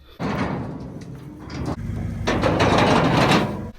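The door of a wrecked Duramax diesel pickup opens and closes with two broad, close, noisy mechanical bursts in quick succession, heard alone without speech.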